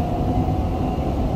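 A Dubai Metro train runs with a steady, loud rumble and low rolling hum from the carriage, continuous and close throughout.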